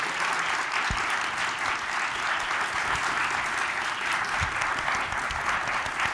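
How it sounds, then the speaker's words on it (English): Steady, moderately quiet applause from a forum audience at a judicial candidates event, an even wash of many hands clapping without a break. "And now you don't have to withhold your applause anymore."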